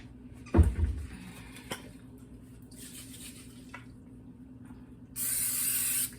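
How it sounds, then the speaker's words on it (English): A short hiss of cooking spray onto a baking pan bursts out near the end, following a soft clatter and quiet handling sounds. "I'm gonna spray it because I don't want my macaroni to stick to my pan."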